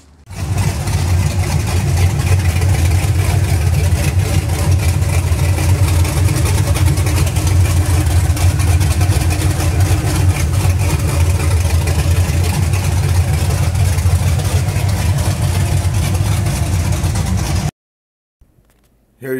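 A 1979 Dodge Lil Red Express with a cammed 5.3 LS swap, custom fuel system and Hooker headers roars steadily on a dyno, a loud sustained engine drone held for most of the run before cutting off abruptly near the end.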